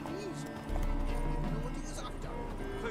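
Hooves of Roach, the horse in The Witcher 3: Wild Hunt, clip-clopping in a steady trotting rhythm, close and fairly loud over a continuous ambient background.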